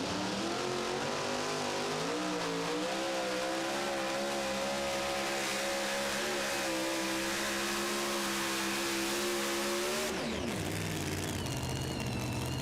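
Super Mod two-wheel-drive pulling truck Midnight Gambler roaring at full throttle down a truck and tractor pull track, a loud sustained engine howl with wavering pitch for about ten seconds, then cutting off abruptly.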